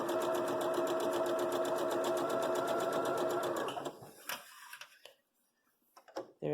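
A sewing machine chain-pieces a quilt block with a steady, rapid rattling stitch for several seconds, then stops, leaving a few scattered clicks and handling noises.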